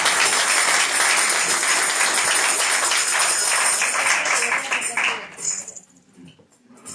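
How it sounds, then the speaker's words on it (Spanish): A church congregation applauding during a sermon, dense steady clapping that fades out toward the end of the stretch. "Gracias por el aplauso."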